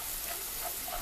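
Ground hamburger meat fries in a pan as it is stirred, giving a quiet, even sizzle and hiss with faint scraping and no voices.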